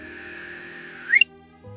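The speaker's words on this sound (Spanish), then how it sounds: "desde una tienda vacía sonó un silbido suave y raspado" A soft, raspy whistle in a horror story drones steadily before rising into a brief sharp peak and cutting off, followed by a low faint tone.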